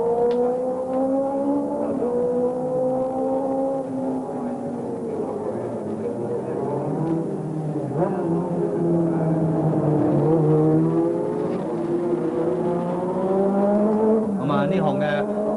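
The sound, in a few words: racing motorcycles at 1986 modified motorcycle race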